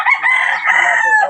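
A rooster crows loudly and close by in one sustained, wavering call that fills the clip, with no talk over it.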